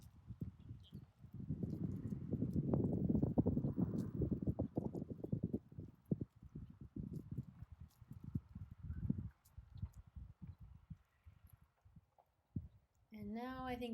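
A horse trots over ground poles and grids in a riding arena, its hoofbeats sounding as steady clip-clop footfalls throughout, with a louder burst of hooves early on and a brief snort near the end.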